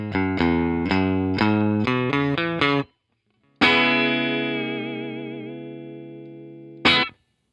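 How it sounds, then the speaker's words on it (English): Dry electric guitar playing a quick run of picked notes, then a sustained chord with wavering vibrato, and a final short strum; clean, close, no echo. "First, the electric guitar without spring reverb."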